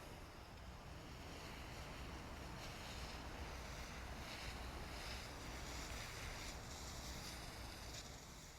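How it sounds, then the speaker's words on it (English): Seeded garden soil in a food-forest bed being watered in, a steady broad hiss of spraying water, continuous and even with some wind noise and no talking. "I'm just watering it in."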